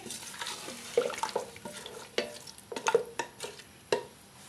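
A spoon stirs meat, green chillies and water in a pressure cooker pot, scraping and clinking in irregular strokes over a soft sizzle, close by with no voices.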